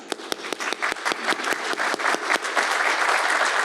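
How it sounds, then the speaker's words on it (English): Audience clapping at a university master's hooding graduation ceremony, starting with a few sharp separate claps that quickly thicken into dense, sustained applause from a large indoor crowd. "I'll put a round of applause for that."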